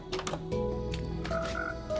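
Minecraft frogs in a froglight farm croaking in short, quiet bursts, a few croaks overlapping with brief tonal chirps across two seconds.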